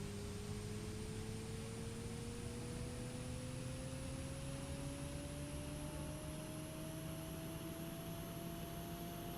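A Ryanair Boeing 737 MAX taxis in Microsoft Flight Simulator 2024, its jet engines giving a steady, loud broadband roar with slowly rising whining tones throughout, no voices.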